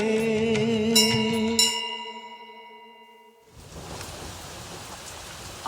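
Ringing, bell-like musical tones fade out, then a steady wash of falling rain follows, soft and continuous, broadband and even, with no voices.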